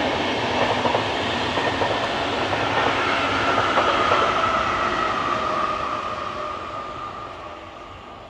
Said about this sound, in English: I like that train sound when they go like